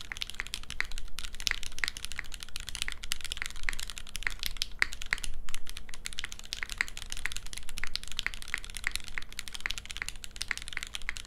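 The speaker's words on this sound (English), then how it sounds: "We knew Gateron Pinks would be a little bit quieter because of the milky top, so we used the aluminum plate to really give it some pop." Fast, steady typing on a Kohaku mechanical keyboard with milky-top Gateron Pink switches and an aluminum plate, a quiet, close run of soft clacks with no talking.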